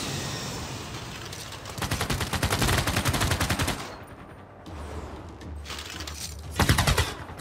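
Bursts of rapid gunfire in Civilization VI during a Gran Colombia campaign, loud machine-gun-like rattles coming in several separate volleys with short gaps between them.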